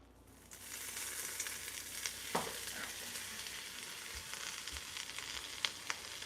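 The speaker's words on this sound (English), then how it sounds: "Do the mics pick up the sizzle?" Jambalaya frying in a pot gives a steady close sizzle and crackle with scattered pops, a spoon scrape and a couple of low knocks, no talking.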